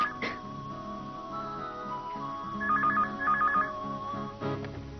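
A mobile phone ringtone plays in short repeated electronic bursts over a faint room background, with a clatter at the start and end and no speech.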